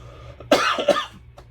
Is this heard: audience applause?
no